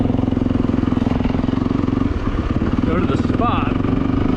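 A 4-stroke dirt bike engine idles and pulses loudly up close with a steady rapid thump, then revs as the rider moves off, while someone talks over it.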